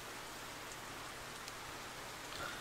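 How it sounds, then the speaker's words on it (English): Rain against a window in the World End Syndrome visual novel: a steady, even hiss of rainfall with faint scattered drops, soft and continuous with no talk. "the sound of the rain against the window grows steadily louder"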